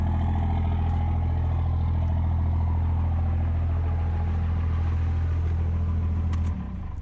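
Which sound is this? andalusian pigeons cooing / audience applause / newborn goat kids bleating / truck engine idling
truck engine idling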